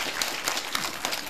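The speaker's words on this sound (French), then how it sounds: "Applaudissez pour eux" An audience claps for a children's team at an event, a brief, dense, steady patter of many hands clapping at moderate loudness with no voices.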